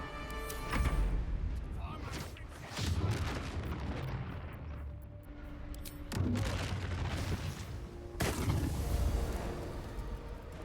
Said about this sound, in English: How is he shooting me through a wall